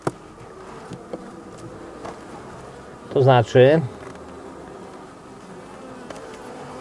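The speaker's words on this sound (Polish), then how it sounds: "nie jest tak źle od strony pszczół, bo coś tych pszczół jest" Honeybees hum in a soft, continuous buzz inside an open hive, with two brief louder bursts midway as a voice speaks a few words.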